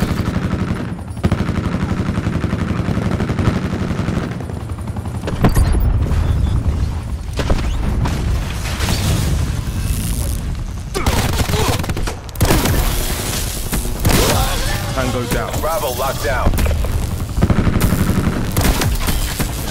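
A Domination match on the Contraband map of a multiplayer shooter, filled with near-constant loud gunfire: rapid automatic bursts and heavy booms overlap throughout, with hardly a pause.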